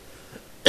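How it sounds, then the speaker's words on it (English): A single short, loud cough bursts out abruptly at the very end after near silence, close to the microphone. "I'm sick of coughing."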